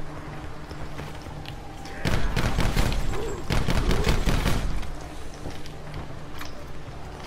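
Semi-automatic rifle fire from a Black Ops 4 Zombies match comes as two dense bursts of rapid, loud shots in close succession, over a low game background hum.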